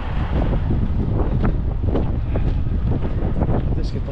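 Strong wind blows across the microphone in a truck yard on a drizzly day, a constant loud rumbling buffet with no speech.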